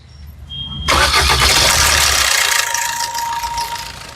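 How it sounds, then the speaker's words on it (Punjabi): An old car engine, one with pickup trouble and glow plugs, cranks briefly, then catches with a loud roar and settles into a steady, slightly rattling idle, close up and with no talk. "ਮਾੜੀ ਜੀ ਗੱਡੀ ਸਟਾਰਟ ਕਰਿਓ ਕੁਝ ਡਿਫਰੈਂਟ ਜੀ ਆਵਾਜ਼ ਸੁਣਾਉਣੀ ਹੈ"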